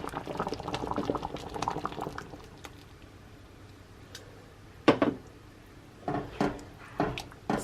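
Stew simmers in a pot, thickened and with milk added. There is a bubbling, liquid burble at first, then a quieter stretch broken by several distinct pops and bubble bursts near the end.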